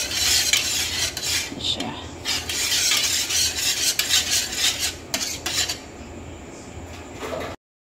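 A spoon scrapes and clinks against a metal pot, stirring a chocolate ice candy mixture in quick, steady rasping strokes. A voice speaks briefly.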